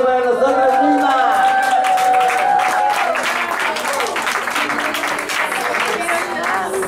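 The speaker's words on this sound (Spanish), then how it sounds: "Un aplauso para nosotras mismas." A crowd at a small cumbia concert venue breaks into loud, sustained applause and some cheering, rising just after a voice speaks over the start.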